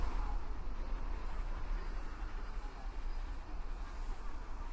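Continuous street traffic ambience from a video game, a busy road with buses and cars rumbling past in a steady low drone, faint high hisses recurring through it, and no voices.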